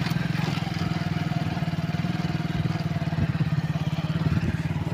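A motorbike engine runs continuously at a steady, rapid putter while being ridden along a canal path, close and loud, with wind and road noise mixed in and no speech.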